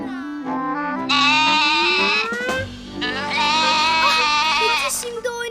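A cartoon goat bleats in long, wavering, nasal cries, several drawn-out calls close and loud, with a voice speaking briefly between them.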